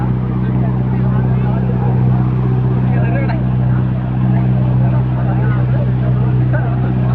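A trawler boat's engine drones loud and close on a river near Monpura, a constant low mechanical hum throughout.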